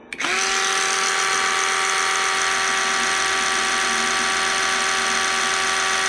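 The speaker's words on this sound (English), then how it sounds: "I've got an electric toothbrush here." Electric toothbrush switched on close by: a steady, loud motor whine with fixed harmonic tones that starts abruptly and runs unbroken to the end, with no talking.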